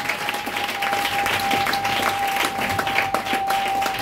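A church congregation bursts into sustained applause during a French-language worship service, dense clapping filling the room steadily from start to finish.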